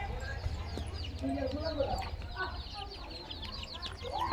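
Hens cluck softly among faint peeping chicks, a busy farmyard chorus with a person talking nearby over a low background rumble.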